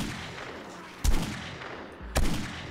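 Two loud gunshots fire about a second apart from a gun in the video game 7 Days to Die, each a sharp crack with a brief tail, over a constant background rumble.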